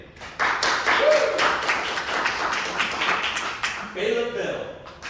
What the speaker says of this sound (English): Now, let's clap for the person that you want killed.